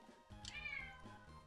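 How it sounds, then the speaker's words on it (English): A cat meows in the background, a single drawn-out, quiet meow with a rising then falling pitch, faint and brief. "there's a cat in the background that's gonna keep meowing"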